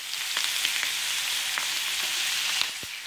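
Bacon fries in a hot pan for a BLT sandwich, a steady, loud, hissing sizzle with scattered small pops and crackles throughout and no voices over it.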